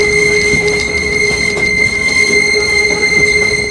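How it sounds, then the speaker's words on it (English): Verde Canyon Railroad train with brakes squealing loudly, steady high-pitched metallic tones over rumbling wheel noise, close and continuous without a break. "the brakes on this train, when I say they are loud, like they are loud, like you can't even hear yourself thinking"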